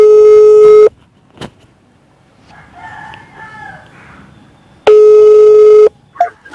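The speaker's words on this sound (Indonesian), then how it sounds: "Your call is being forwarded. Please hold the line." Telephone line tones heard while a call is being forwarded and held, with two long loud steady electronic beeps separated by a quiet gap holding faint murmuring.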